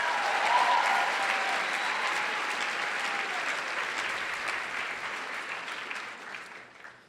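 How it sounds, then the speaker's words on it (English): A conference crowd at a national pro-life summit keynote breaks into steady applause that holds full and even, then gradually fades away. "Give yourselves a round of applause for caring."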